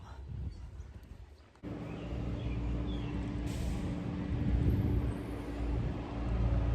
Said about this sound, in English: It's a truck.